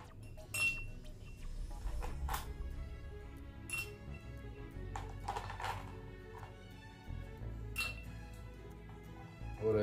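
Ice cubes clink against a glass holding rum with lemon juice, a series of sharp, light taps scattered over quiet background at close range.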